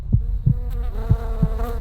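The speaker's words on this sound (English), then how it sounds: "A faint buzzing sound from far away." A thin fly's buzz drones steadily while several soft low thumps land at irregular intervals beneath it.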